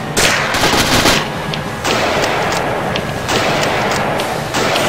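Gunfire in the WWII shooter Castle Totenkopf, taking down a machine gunner: bursts of loud, close automatic fire, then pauses and more bursts, over a dense rattling din.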